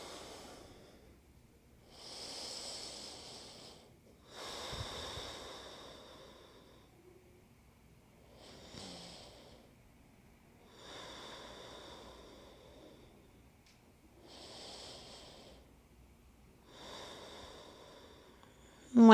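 Slow, deep yoga breaths from a woman 34 weeks pregnant, each a soft, airy rush of inhaling or exhaling in a steady rhythm of about six cycles, close and clear against a quiet room.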